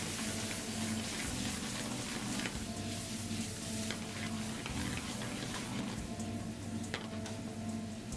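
Teres major steak fries in a pan as sauce is swirled and stirred in, a steady wet sizzle with soft scraping and bubbling throughout.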